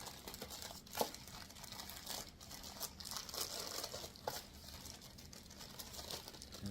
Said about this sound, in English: we are going to open a bag of parts, put them all down so we have everything laid out in front of us